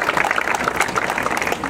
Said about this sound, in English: Let's give Jim another round of applause.